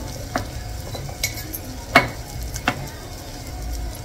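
Ground spices including Kashmiri red chili powder and ghati masala sizzle and get stirred in a hot pan for a cashew curry, with a few sharp spoon scrapes against the metal over a steady frying hiss, no talking.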